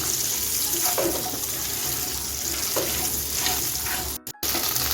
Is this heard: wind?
no